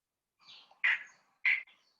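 Two sharp, bright spotted marsh frog calls ring out a half second apart, each a short clacking knock, preceded by a fainter raspy note; no talking.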